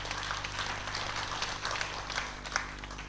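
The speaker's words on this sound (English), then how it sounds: "I extend a warm welcome to all of you with a thunderous applause" Steady, dense applause from an audience at a centenary convention held at Bethany Convent in Mangalore, a continuous broadband wash of clapping over a low background hum, with no clear pauses.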